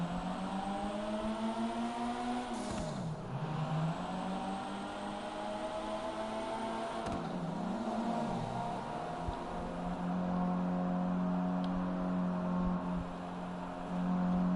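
A Toyota Supra, the Jester Classic, drives on a track in GTA 5, its engine humming steadily with a few dips and climbs in pitch as it shifts or slows, fairly faint and without talk.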